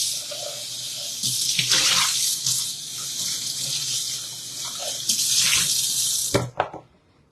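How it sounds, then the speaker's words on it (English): A kitchen appliance is rinsed under a running tap. Water hisses loudly and steadily into the sink, changing in tone as the item moves through the stream, then the tap shuts off and a few drips follow. "all I'm going to do is rinse this and put it back on the shelf"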